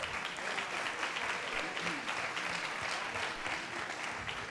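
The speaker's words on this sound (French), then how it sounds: "Je vous demande de l'applaudir." A conference audience applauds steadily and fairly close for several seconds, a dense even patter of many hands with no pauses.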